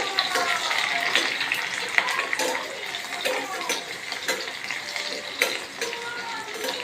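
Onion and bay leaf sauté in plenty of oil, giving a steady bright sizzle and crackle with small stirring clatters, fairly close and continuous.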